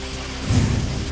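Unseasonal rain with stormy winds in Buldhana, India: a steady, dense rush of rain and gusting wind, with a deeper low swell building midway through and no voices.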